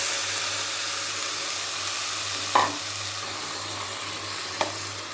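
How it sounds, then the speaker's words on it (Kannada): Ground masala paste fries in a pan for ridge gourd egg sambar, giving a steady loud sizzle and hiss throughout, broken by two brief scraping knocks of a stirring spoon, with no speech. "ಇವಾಗ ನಾನು ರುಬ್ಬಿರೋ ಅಂಥ ಮಸಾಲೆನ ಸೇರಿಸ್ಕೊತಾ ಇದ್ದೀನಿ"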